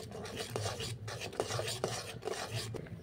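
Grated coconut is stirred into a thickening milk mixture that contains watermelon, a quiet close rasping and scraping with soft knocks of the spoon on the pan, repeating steadily.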